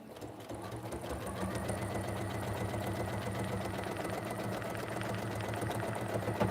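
Domestic sewing machine running steadily while stitching a quilt-as-you-go block, a close, even mechanical whir with fast regular needle strokes, fairly quiet and uninterrupted, no speech.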